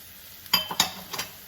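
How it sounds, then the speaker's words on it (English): Onions and mushrooms cook in a frying pan under a faint sizzle, punctuated by three quick clattering stirs of a utensil against the pan. "I'm gonna start off by adding my onions and my mushrooms. I'm just gonna fry these up."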